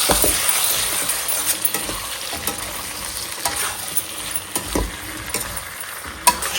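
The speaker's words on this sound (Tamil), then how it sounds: "காயெல்லாம் சேர்த்து நல்லா மிக்ஸ் பண்ணியாச்சு." A dry fish curry with vegetables and beans is stirred in a pan, with soft scraping strokes and light clinks over a steady low sizzle, close and continuous with no talk.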